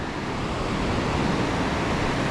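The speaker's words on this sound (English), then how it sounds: "But the waves kept coming through" Ocean waves break on rocks at a shoreline fishing spot, making a continuous close rushing roar of surf with no voices.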